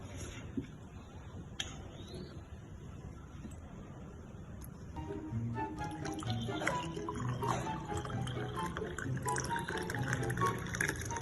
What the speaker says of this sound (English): Then we pour some hot water.